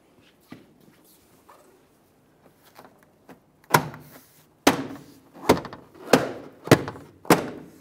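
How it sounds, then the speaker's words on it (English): Push clips on a 2002-2009 Chevrolet Trailblazer door panel are pressed into place: a few faint taps, then about six firm, close thunks in a steady rhythm, each clip seating with a solid knock. "align each one of those push clips and then press the door panel into the proper position"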